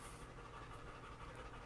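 A new puppy pants in quick, steady breaths, soft and continuous under a noisy room background.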